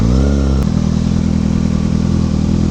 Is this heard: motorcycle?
yes